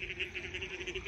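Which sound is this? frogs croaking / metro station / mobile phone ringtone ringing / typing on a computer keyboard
frogs croaking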